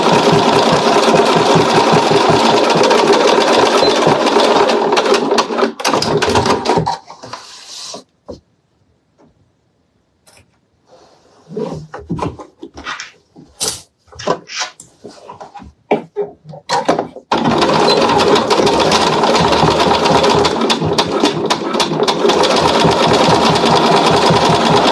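A domestic sewing machine runs with its thread tension lowered, a close, loud whirring stitch that stops midway for a stretch of scattered handling noises before running steadily again.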